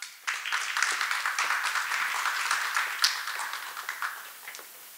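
Audience applause at an academic martial arts seminar in Korea, a burst of many hands clapping that starts abruptly, holds steady for a few seconds, then thins and tapers off.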